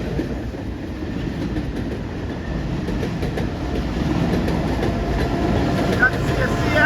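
A CSX freight train rolls past at a trackside spot in Erlanger, a continuous rumble with faint rhythmic clacking of wheels on rail joints, steady and fairly close throughout.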